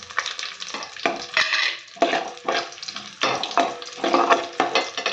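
Onions fry lightly in a pan for a ridge gourd dish, loud bursts of sizzling and stirring that rise and fall in uneven pulses, close up.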